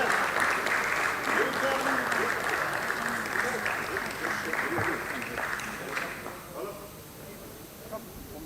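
A hall audience at the listing ceremony of Divgi Torqtransfer Systems Limited claps loudly and continuously, a broad wash of applause that gradually thins toward the end, with a voice talking faintly underneath.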